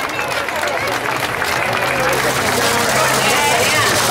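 A crowd at a floral pilgrimage festival claps steadily and densely throughout, a continuous wash of applause with faint chatter mixed in underneath.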